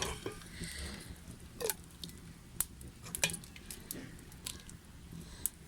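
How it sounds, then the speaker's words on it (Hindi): Hot and sour chicken soup is ladled out of a pot into a serving dish, giving soft liquid squishes and stirring scrapes broken by a few sharp clinks of the utensil against metal, all fairly quiet. "अब हम इससे डिश आउट करेंगे।"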